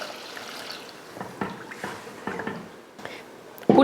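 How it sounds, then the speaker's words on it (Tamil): Soaked tamarind water is poured into a pot of rasam, giving soft splashing and trickling pulses that come and go, ending in a louder sizzle or clatter near the end. "வதங்கினதுக்கப்புறம் இப்போ புளியை ஊற்றிடலாம்."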